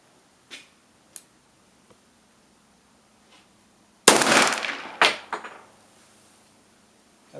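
Single 10mm pistol shot firing a 180-grain full metal jacket round at 50 feet over a chronograph, one sharp loud crack followed by quick echoing reports, with faint clicks and handling noises before it.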